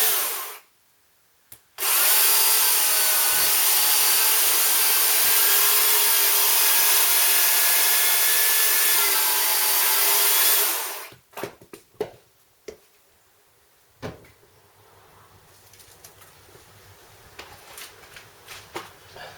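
Loud, steady whine of a Makita UC3541A electric chainsaw revving for several seconds, then cutting off, followed by clicks, clatter and quiet handling sounds.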